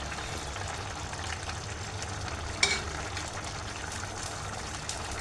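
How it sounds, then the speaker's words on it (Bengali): Beef bhuna khichuri being stirred in a pot, a steady sizzling, frying hiss with soft wet scraping and one brief clink of the spoon partway through, close and continuous. "আমি এখন এটাকে ভালো করে মিক্স করে নেব"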